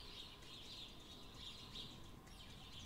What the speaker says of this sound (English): I think the birds are so loud.